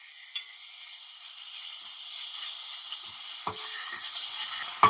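Ginger-garlic paste fries with a soft, steady sizzle in a pan for potato kurma, broken by a few sharp scrapes and knocks from stirring, close and fairly quiet with no talking.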